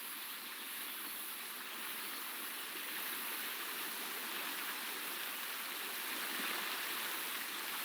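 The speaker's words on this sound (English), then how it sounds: "The river cuts through that canyon." A river rushes through a canyon in the video game Call to the Sea, a steady, dense wash of flowing water that stays even and unbroken with no talk over it.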